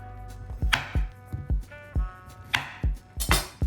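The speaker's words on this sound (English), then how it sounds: "I'm gonna slice the top off and the end off" A knife slicing the top and end off a vegetable on a cutting board, a run of sharp, close chops in an uneven rhythm, about ten strikes with some louder than others.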